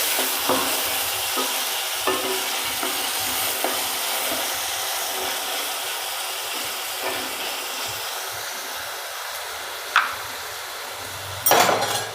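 Chopped tomatoes and onion tossed into a hot pan for a Gujarati date curry set off a steady, close sizzle and frying hiss, with repeated stirring scrapes of a spoon against the pan and a few sharper clinks.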